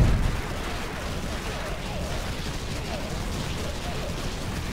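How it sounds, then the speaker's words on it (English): A nuke detonating in the video game Infested Planet, a dense, sustained roar of blasts and rumbling gunfire that fills the whole clip at steady loudness, with a louder burst at the very start. "Oh yeah, nuke it."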